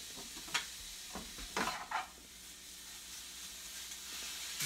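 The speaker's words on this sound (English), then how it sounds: "Bacon is sizzling along nicely." Bacon sizzles steadily in a pan, a constant crackling hiss with a few brief scraping stirs near the start.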